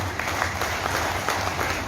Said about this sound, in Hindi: तालियां एक बात के लिए।